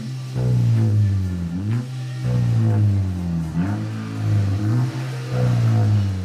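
A VW Golf GTI engine is revved repeatedly through an exhaust fitted with a resonator and front silencer, loud close blips rising and falling in pitch with a deep droning rumble in between.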